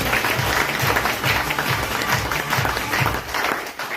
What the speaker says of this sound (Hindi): मैं चाहती हूँ एक बार इस संस्था के लिए जोरदार ताली हो जाए